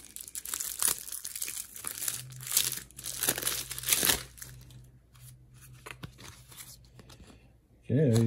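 Arkham Horror card game pack wrappers being torn open, with crinkling and rustling plastic in uneven bursts close up and a brief voice near the end.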